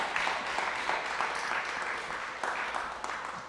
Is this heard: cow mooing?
no